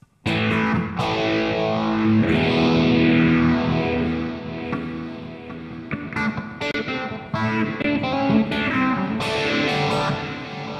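Distorted electric guitar riffs through a NUX MG-400 plate reverb, with a wide, shimmering reverb tail, chords ringing out and blending together, loud and continuous.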